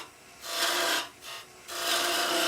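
A skew chisel cuts a deep V into spinning timber on a wood lathe, three hissing scraping passes, each a rough loud rasp separated by short quiet gaps.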